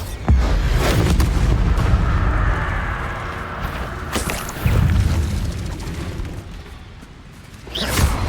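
Explosive Bombarda spell blasts in Hogwarts Legacy, a low booming burst at the start and another near the middle, with rumbling combat noise in between and a sharp whoosh at the end.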